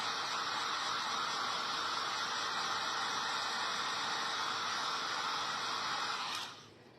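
A hair dryer blows steadily and loud for about six seconds, drying the feet of chicks kept in an egg carton, then cuts off abruptly into quiet.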